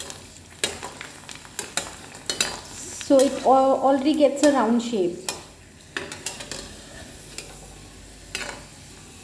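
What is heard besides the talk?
pani puri frying in hot mustard oil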